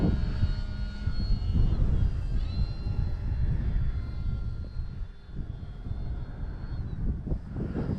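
An OMP Hobby Super Decathlon RC model airplane flying in strong wind over a grass field, its small engine buzzing loudly and steadily with shifting pitch as it passes, alone without talk.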